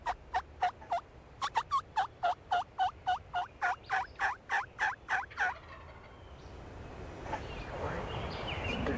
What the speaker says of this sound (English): he gobbled 6 times in a row, walking away